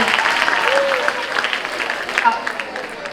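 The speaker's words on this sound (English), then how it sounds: "Give them a big round of applause." Loud audience applause at a life skills session for International Girl Child Day, a bright, dense clatter of many hands with voices calling out over it, tapering slightly near the end.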